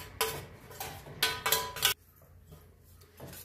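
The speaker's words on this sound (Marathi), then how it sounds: "ते चांगलं असं हलवून घ्यायचे." Spoon stirring a mixture of powders into milk in a bowl for homemade ice cream, giving bursts of scraping and clinking strokes in two clusters, then a quiet pause with faint handling at the end.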